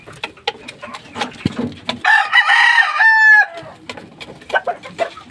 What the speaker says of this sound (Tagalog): Ito mga bago niya itong mga sisiw guys.